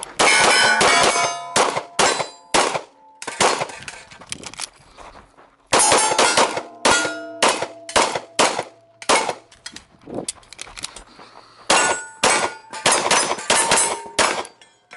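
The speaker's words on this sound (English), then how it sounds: "press the trigger" A CZ 75 SP-01 Shadow Target 2 pistol is fired repeatedly, giving loud sharp metallic reports in irregular bursts of several shots with short gaps, close and with no talk.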